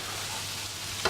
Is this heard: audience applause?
no